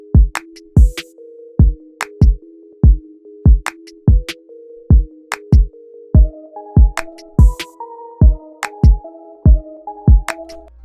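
A sparse trap beat plays alone, with punchy kicks and claps hitting in an even rhythm under a simple plucked melody that rises in pitch halfway through. It is loud and close, with no voices.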